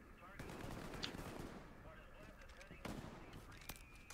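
Distant gunfire and bursts of machine-gun fire rumble faintly through a World War II battlefield in Hell Let Loose, a few sharper cracks standing out, with a player talking now and then.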